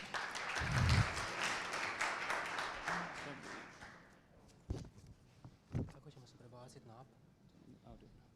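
Audience applause at a university startup competition, a dense wash of clapping for the first few seconds that thins out, followed by a few scattered claps and a voice speaking.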